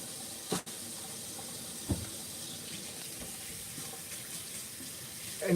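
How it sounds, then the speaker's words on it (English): A kitchen tap runs steadily for hand washing while preparing Italian meatballs, a soft continuous splashing hiss with a few brief clunks and knocks. "I'm going to wash my hands"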